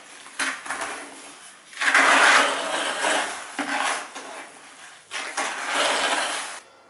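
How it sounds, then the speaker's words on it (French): Grout paste for brick slip joints is stirred in a container in bursts of scraping and rubbing, several strokes separated by brief pauses, close and fairly loud. "je vais mélanger jusqu'à obtenir une jolie pâte"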